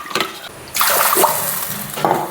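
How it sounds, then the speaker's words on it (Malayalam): Water rinsed out of a mixer jar pours into a cooking pan while rasam is being made, a short splashing stream that swells after a quiet start and runs steadily for over a second, close by. "മിക്സിയിൽ കഴുകിയിട്ട് വെള്ളം ഒഴിക്കാം"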